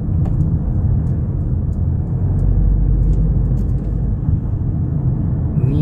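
Steady low road rumble and tyre noise inside a Mercedes-Benz GLB SUV taking an intersection corner at a slightly higher speed, a continuous even drone with no talk.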